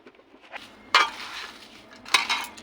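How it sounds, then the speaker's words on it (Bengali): Banana stem being mashed with salt by hand in a kitchen: soft wet squelching with two sharper squishes about a second apart, close and fairly loud, no talking. "এবার দেব লবণ দিয়ে এটাকে চটকে"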